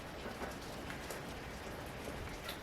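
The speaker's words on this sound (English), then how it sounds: "Can you hear the rain outside?" Steady rain falling outside, a dense, even hiss with scattered droplet patters, fairly quiet and continuous.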